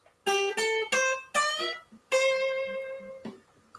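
A picked electric guitar plays a short bluesy phrase: several quick, separate notes, then one longer sustained note that rings out, clear and close.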